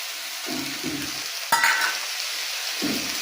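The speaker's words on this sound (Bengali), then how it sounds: "এবার আমি এটাকে খুব ভালো করে কষবো দিয়ে দিচ্ছি কিছুটা পরিমাণ টমেটো কুচি" Fish curry base with chopped tomato sautéing in a pan for a Bengali bhola fish curry with brinjal, soft sizzling broken by a few short stirring scrapes and one sharper clatter, close and fairly quiet.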